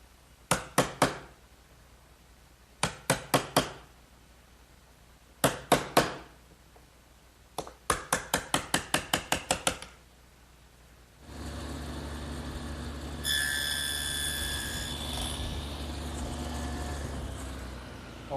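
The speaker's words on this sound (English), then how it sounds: "All the rabbets and dados that we've made have to be chiseled out so that they're square." A chisel squares out rabbets and dados in wooden side pieces for a chest of drawers, struck in quick clusters of sharp knocks, three to eight blows at a time. The strikes are followed by a steadier machine hum with a whine.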